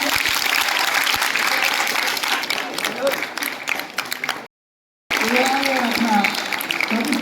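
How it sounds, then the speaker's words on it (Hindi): Audience applause at a school tuberculosis awareness programme: sustained clapping from a crowd, broken by a brief silent gap, then clapping resumes with some voices mixed in. "तो जोरदार तालियां"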